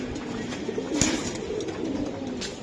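Giribaz racing pigeons coo continuously in a low, rolling murmur nearby, with no voices over them.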